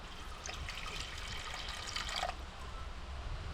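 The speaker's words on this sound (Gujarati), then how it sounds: "તો પેલા પાણી નાખી દઈએ" Water pours into a cooking pot set on the stove for making dhokli, a faint continuous trickle and splash close by with no talk.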